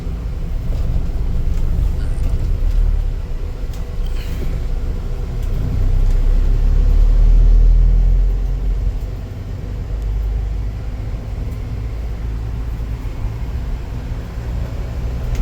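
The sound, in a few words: engine of a 2018 Mahindra Thar 4x4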